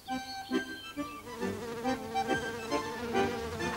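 Bees buzz in a steady, wavering drone, several insects humming together with a continuous tone that swells and dips in loudness.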